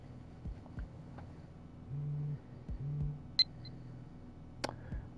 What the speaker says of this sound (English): My phone suddenly starts vibrating.